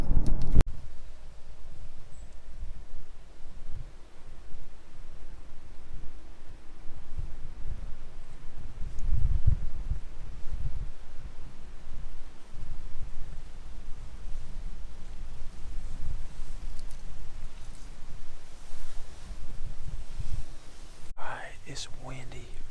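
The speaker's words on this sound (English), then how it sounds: "It's windy, really windy." Strong wind gusting outdoors in a wooded deer-hunting spot as temperatures drop, a steady broadband rush with low buffeting rumbles throughout, loudest around the middle, ending with a brief crackle near the end.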